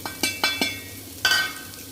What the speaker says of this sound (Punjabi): ਤੜਕਾ ਚੰਗੀ ਤਰ੍ਹਾਂ ਭੁੱਜ ਗਿਆ